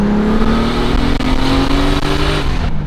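Turbocharged car engine revving hard on a dyno in second gear, a loud, rising roar that climbs steadily in pitch close up, with no talk.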